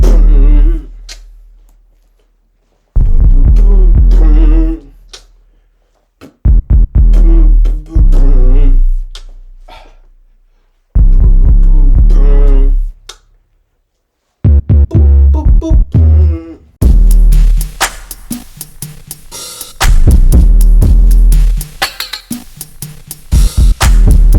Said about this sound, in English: you need a hard-ass 808